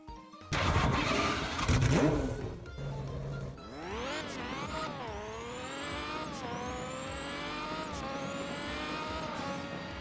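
A burst of noisy engine cranking turns into a synthetic Roblox game car engine revving up through several gear shifts, rising whines repeating steadily.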